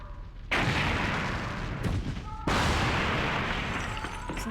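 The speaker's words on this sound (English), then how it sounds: "So, grenade launcher." Grenade launcher firing in a video game, heard as two loud, heavy booming blasts about two seconds apart, each followed by a long rumbling tail, with no talking.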